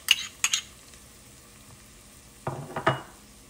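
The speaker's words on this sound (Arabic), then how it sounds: "خليت البصل تقلى" Onions and tomatoes frying in a pan, a faint sizzle broken by two clusters of spoon-on-pan clatter and scraping, one at the start and one near the end.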